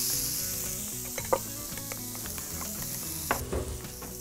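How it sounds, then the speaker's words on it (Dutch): Tomato grilling on a hot plate slicked with sunflower oil, giving a steady close sizzle with scattered pops and crackles throughout. "De tomaat is aan het grillen."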